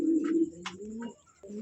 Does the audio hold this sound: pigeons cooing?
yes